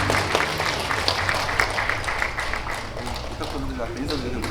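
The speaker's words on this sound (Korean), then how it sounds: "여러분 다시 한번 큰 박수로 오늘 수상을 축하해 주시면 고맙겠습니다." Audience applause at the 34th Jeong Ji-yong Literature Award ceremony, held during the 35th Jiyong Festival, congratulating the prize-winning poet: steady, dense clapping throughout, with voices talking over it.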